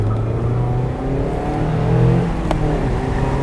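A 2022 Mazda MX-5 Miata with a six-speed manual and rear-wheel drive revs while driving on the road, its engine note rising and holding at a loud, close drone with a slight swell midway.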